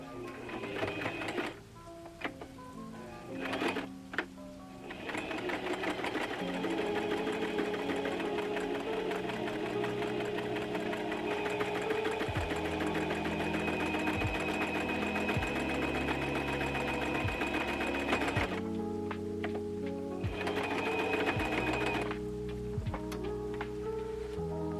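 A sewing machine stitches bag liners in long continuous runs of rapid mechanical whirring, pausing briefly near the start and again toward the end, loud and close with no talking.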